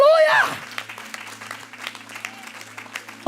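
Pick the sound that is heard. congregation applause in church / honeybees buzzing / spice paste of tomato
congregation applause in church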